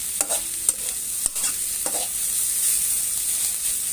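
Pickled mustard greens being stir-fried in a hot pan, with several sharp scraping knocks of a spatula over a steady hiss of frying, close and fairly loud, no talking.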